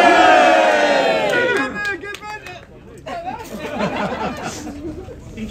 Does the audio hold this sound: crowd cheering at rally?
yes